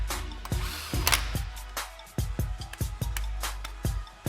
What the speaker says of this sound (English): Run your new flywheel bolts in just snug and grab your torque wrench.